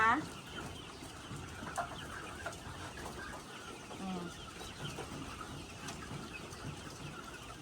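Bicol Bold chickens clucking in a farm pen, scattered soft clucks and bird calls, fairly distant and faint over a steady background hiss, with a brief low voice.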